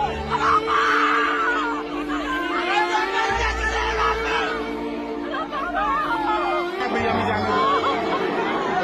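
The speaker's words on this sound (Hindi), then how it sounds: "लोग चीख रहे हैं, चिल्ला रहे हैं, बचाने की गुहार लगा रहे हैं" Crowd at the Mahakumbh stampede in Prayagraj, a dense clamour of shouting, screaming and overlapping voices, loud and continuous with distressed cries rising above the chatter.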